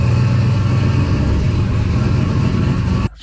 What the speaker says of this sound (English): Now I am gonna just take it for a cruise to see how everything feels